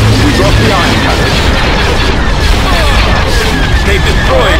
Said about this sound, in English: They've destroyed our ion cannon.